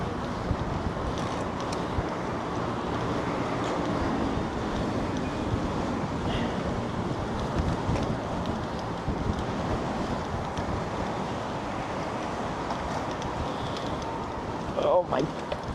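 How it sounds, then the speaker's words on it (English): Strong wind buffets the microphone outdoors in Apeldoorn during a hitchhiking trip, a continuous loud rushing roar that barely varies in level, with a few faint knocks near the end. "It's the wind."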